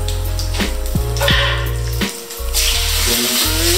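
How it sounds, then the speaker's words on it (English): Steak searing in a very hot pan on a gas stove, loud continuous sizzle with hiss swelling and easing as the meat settles, close up with a low steady hum beneath. "Then throw in that steak. And I repeat, guys, just make sure that your pan is very hot."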